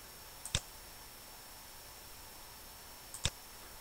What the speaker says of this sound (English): Click OK.